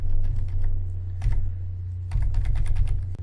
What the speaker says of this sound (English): Press the control key and use arrow keys.